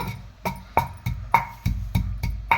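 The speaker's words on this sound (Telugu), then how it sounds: "చూడండి, మసాలా మా అమ్మాయి దంచేస్తుంది." Masala pounded in a stone mortar for a potato and prawn curry, seven or eight heavy thuds in a steady rhythm, each a sharp low impact, close and alone with no talking.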